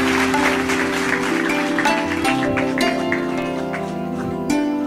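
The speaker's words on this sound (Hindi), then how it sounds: "जोरदार तालियां, अनीता ने अभी कविताएं बहुत जोरदार पढ़ी थी" Loud, sustained applause from an audience after a poet's reading at a Hindi literary award and book-launch event in Kanpur, a steady wash of clapping over a low tonal hum throughout.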